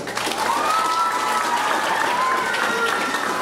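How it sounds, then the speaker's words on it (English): Applause at a school results ceremony in Trinidad and Tobago, sustained clapping from a gathered crowd, with faint whistles or cheers rising over it. "Give her a round of applause."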